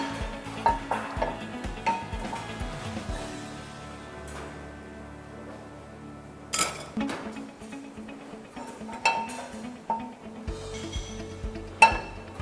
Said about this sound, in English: we are going to do the frying of the eggs